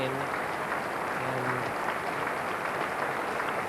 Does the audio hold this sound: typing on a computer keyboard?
no